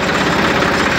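Massey 241 tractor diesel engine running in fifth gear, a steady close-up chugging rumble with vibration, loud and continuous for about a second.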